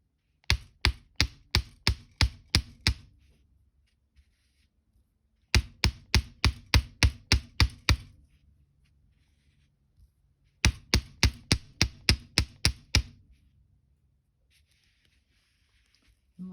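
A metal hammer pounds wire-wrapped chain links on a steel block in three sharp bursts of about eight quick ringing taps each, loud and close, with silent pauses between the bursts.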